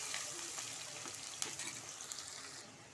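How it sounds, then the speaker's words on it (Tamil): Roughly chopped onion and a small tomato sauté in a hot pan, a steady close sizzle and crackle with faint stirring taps, alone with no talk. "இப்போ இது நல்லா வெங்காயம் நல்லா வதங்கி வரட்டும்"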